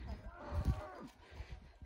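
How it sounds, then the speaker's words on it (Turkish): Village cows give a low, fairly faint moo at a distance, a short lowing call in an outdoor rural setting with a little background noise. "köyümüzün ineklerini göstereceğim size."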